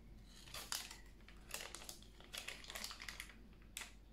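Small Super Zings blind bag packets are torn and crinkled open close by, bursts of crisp plastic tearing and rustling coming in irregular clusters.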